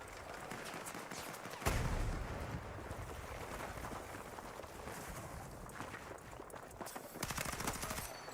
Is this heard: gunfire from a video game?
yes